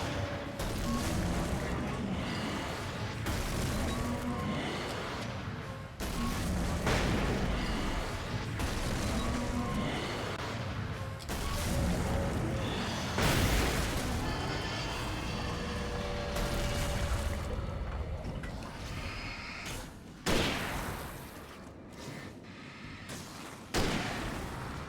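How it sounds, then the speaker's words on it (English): Loud flashbang blasts and booms in the classic Alan Wake video game, several sharp bursts over a dense, continuous rumble of game action, with a voice talking at times. "I was glad for the flashbangs there"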